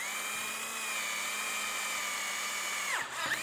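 A power drill whirs at a steady high pitch for a few seconds, then winds down abruptly and briefly spins up again.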